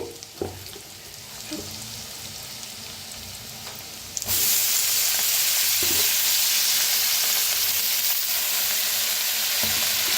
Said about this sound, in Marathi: आता ह्याच्यात टाकूया मेथी